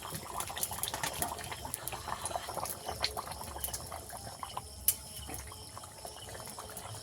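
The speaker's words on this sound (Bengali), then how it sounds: "আবারও কিছুক্ষণ ফুটিয়ে নেব যতক্ষণ না মাংস সেদ্ধ হয়" A pot of desi chicken curry gravy with potatoes simmers on the stove, giving a faint, continuous bubbling with small pops and light liquid sounds throughout.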